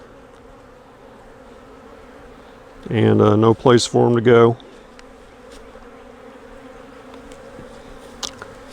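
Honey bees buzz steadily in the background as field bees return to the hive, with a brief burst of speech in the middle; the humming continues faint and even throughout.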